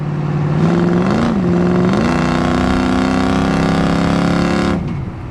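A 1972 Chevrolet El Camino SS with a 350 V8 and automatic transmission revs loud and close while driving, its deep engine note climbing through gear changes before easing off at the end.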